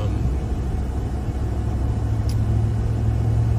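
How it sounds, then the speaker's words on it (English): A truck slows down on a road, its engine a steady, fairly close low rumble that drones on without a break and with no talking over it. "Truck taking longer to slow down."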